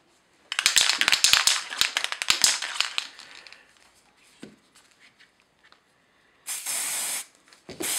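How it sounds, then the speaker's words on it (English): Bursts of aerosol spray paint hiss in short rapid puffs while priming model railway crane and wagon parts, then a longer steady spray after a quiet pause, close and fairly loud. "I've masked off the wheels to protect them from the spray"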